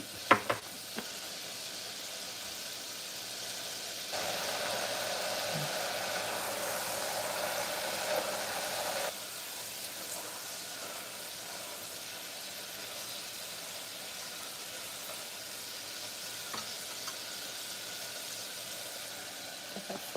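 Tallow-fried French fries sizzle in a Fry Daddy deep fryer, a steady soft hiss with a louder bubbling surge for a few seconds before settling back to a low, continuous fry.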